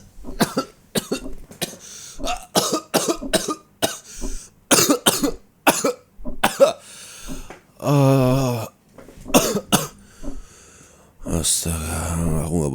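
Rapid fits of harsh coughing in repeated clusters, close and loud, interrupted by strained wheezy breaths and vocal groans.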